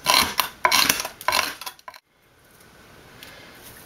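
A knife chops dried echinacea root on a hard surface, a quick series of sharp, close clattering cuts, followed by near silence with faint room noise.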